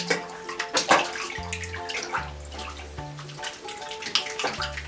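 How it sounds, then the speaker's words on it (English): A five-month-old baby splashing in bathwater in a tub, repeated bright slaps and sloshes in uneven bursts, close up, with soft musical tones underneath. "she just discovered splashing in the tub"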